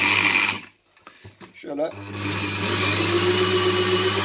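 A 12/24 V, 5 A wind and water turbine alternator turned by hand, a brief spin with a rising whirr, then a steady hum. Someone speaks briefly.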